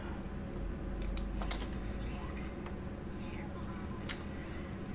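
Computer keyboard typing with scattered, fairly quiet key clicks, some in quick clusters, over a steady low background hum.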